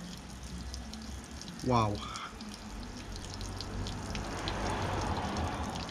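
Water gushes and drips steadily out of the back end of a van's body, which is being stripped down, making a continuous close splashing rush. A single short exclamation cuts in near the start.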